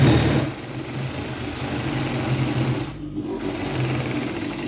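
A sewing machine stitches fabric on a long stitch setting (number 5), running as a steady, close, continuous mechanical whir for the whole stretch without a pause.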